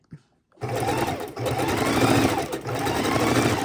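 A sewing machine stitches raw edge appliqué on a quilted house block, starting after a brief pause and then running steadily and loudly at close range with slight shifts in speed.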